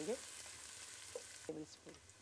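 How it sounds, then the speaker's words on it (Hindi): Finely chopped onions frying in a pan, a faint steady sizzle broken by a few soft scrapes and clinks of a stirring utensil. "2 मीडियम साइज़ बारीक बारीक कटे हुए प्याज डाले हैं। अब इनको लाइट ब्राउन करना है।"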